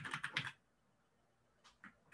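A password is typed on a computer keyboard in a quick burst of close, crisp keystrokes. A pause follows, then a few more scattered taps.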